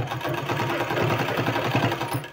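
A sewing machine stitches a sleeve seam at a steady fast clatter, its rhythmic needle pounding close and loud throughout with no talking.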